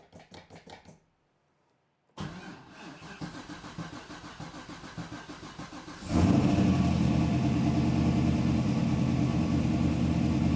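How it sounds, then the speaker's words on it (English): A Datsun with no muffler cranks with rhythmic starter pulses, catches, and settles into a loud, raw, rumbling idle that jumps louder and stays steady, heard close up and alone. "That's a loud car with no muffler"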